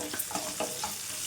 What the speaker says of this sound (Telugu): పెద్ద ఉల్లిపాయ అయితే కట్ చేసుకొని వేసుకుంటానండి ముక్కలు